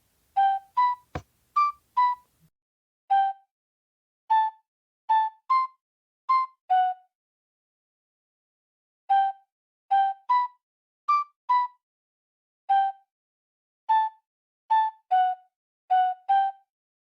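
Wolf's whistle tune played on Minecraft note blocks, a string of clean, bright whistle-like notes in short phrases separated by pauses, loud and alone with no talk.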